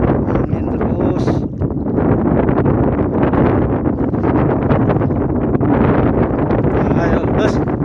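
Strong storm wind at a reservoir roars steadily and buffets the microphone throughout, a loud unbroken rush with no letup.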